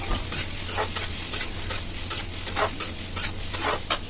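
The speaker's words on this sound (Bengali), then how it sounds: "তো পেঁয়াজগুলো ভাজা হতে হতে" Thinly sliced salted onions fry in a pan in a kitchen, a soft continuous sizzle broken by regular scraping strokes of a stirring spoon, close and alone.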